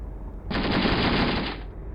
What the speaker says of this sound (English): My friendly tank is engaging with a heavy machine gun, with the anti-aircraft machine gun on the turret.